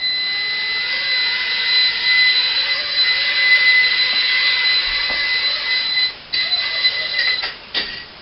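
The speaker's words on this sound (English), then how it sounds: "I've had a successful couple little flights that got a couple inches off the ground." Lady Bird toy mini drone flying indoors: a steady, high-pitched whine of tiny rotors, fairly loud and close, with a few brief dips and knocks toward the end.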